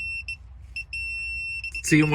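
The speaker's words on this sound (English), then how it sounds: "it goes a solid beep, that's how you know you've hit your number" A digital torque wrench alarm gives several short electronic beeps at a steady high pitch, in quick pairs and singles, then a sustained solid tone on reaching its set torque as a voice begins speaking nearby.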